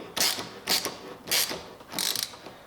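Hose clamp being tightened on the PRL Cobra intake of a 2017 Honda Civic Si, four short ratcheting bursts close by, evenly spaced, with no talking.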